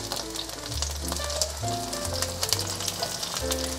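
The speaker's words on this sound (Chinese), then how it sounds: "继续让它慢慢煎。 煎这种用中小火煎" A vegan cabbage pancake fries over medium-low heat in a pan, giving a steady soft sizzle beneath prominent background music.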